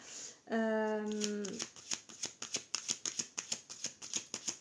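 Tarot cards being shuffled during a reading, a dense riffle of papery clicks followed by a steady run of sharp, evenly spaced card snaps, close and alone with no voice.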